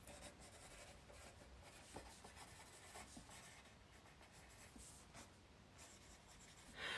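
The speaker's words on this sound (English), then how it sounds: "I'll write it down." A pen scratches across paper in quick, faint strokes with small rubbing bursts, close and quiet, with no voices during the writing.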